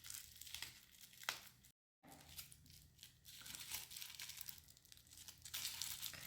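Plastic watch packaging being unwrapped up close, a steady run of crinkling and crackling with a few sharper tearing bursts and a short silent gap partway through.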